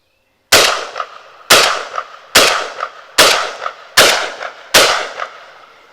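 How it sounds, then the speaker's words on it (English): Six loud, evenly spaced blasts from a 12 gauge 1014 shotgun firing double-aught buckshot, each sharp report trailing into a brief echo outdoors, with no talking. "So here we go with 6 rounds of double-aught buckshot."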